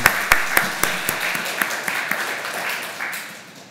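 Church congregation applauding during a Sunday service, with a few sharp, loud individual claps up front over a fuller wash of clapping that gradually thins out.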